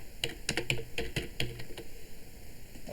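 Quick bursts of clicky keystrokes on a computer keyboard, several sharp taps in the first half-second to second and a half, close and crisp, then trailing into quiet background hum.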